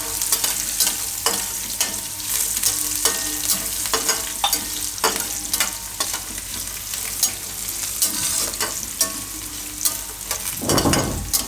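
Peanuts and cashews fry in hot oil with green chillies in a home kitchen while a spoon stirs them. A continuous sizzle runs under repeated scraping clicks, with a louder stir and hiss near the end.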